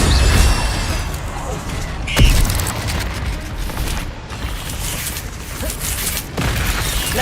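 Incendio fire spells cast in a video game make short, punchy bursts and booms over a busy background, while a person talks loudly over the effects.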